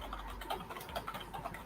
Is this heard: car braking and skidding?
no